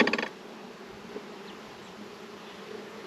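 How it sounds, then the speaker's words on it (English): Bees from a hive kept in a brood chamber hum softly and continuously nearby, with a brief louder burst at the start. "That's a good place to find bees."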